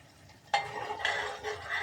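Homemade ghee is stirred in a pan, with a quiet scrape and sizzle that starts abruptly and continues in a few gentle, uneven strokes.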